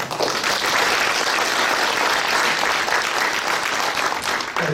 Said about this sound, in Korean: 다 함께 감사의 박수 한번 드립니다.